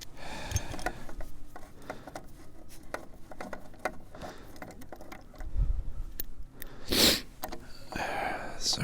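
Several quiet nasal sniffles from sanding dust in the nose, scattered among faint workshop handling noises during work on a wooden log bench, with a louder sharp sniff near the end and no speech.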